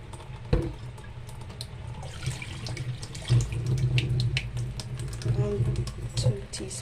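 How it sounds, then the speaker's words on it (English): Tap water runs and splashes as goat meat for curry is washed in a sink, with uneven bursts of splashing, handling clatter and soft knocks at close range. "I'll be washing it with apple cider vinegar."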